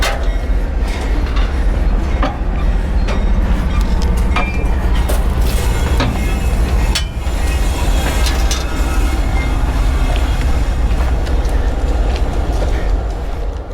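Freight train cars roll past close by in Mexico, a loud continuous rumble with scattered metallic clicks and clatters over the whole stretch.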